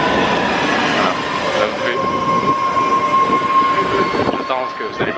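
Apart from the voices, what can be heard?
subway train passing at Kendall/MIT station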